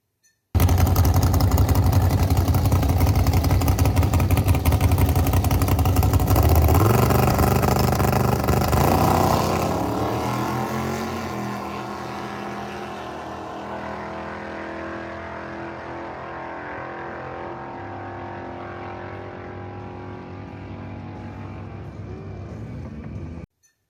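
A drag race car with an old barn-stored motor launches off the line with a loud, sustained engine roar that drops in level and fades as the car pulls away into the distance.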